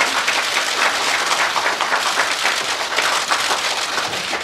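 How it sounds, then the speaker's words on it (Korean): Steady, dense applause from a large crowd at a medal unveiling ceremony fills the whole stretch, many hands clapping at once without letup. "큰 박수 부탁드리겠습니다."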